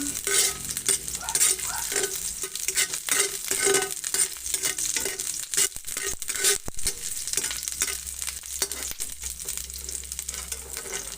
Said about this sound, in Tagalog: haluin lang siya until mag-golden brown po siya